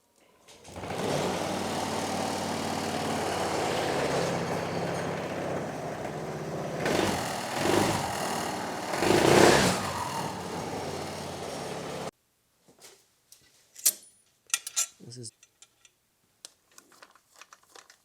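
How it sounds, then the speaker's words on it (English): Honda PCX150 scooter engine starting and running, driving its drive belt: a steady close mechanical drone for about twelve seconds with a couple of louder surges, then it cuts off, leaving only faint scattered clicks and knocks. "I'm going to start the bike right now, and it's going to move the belt"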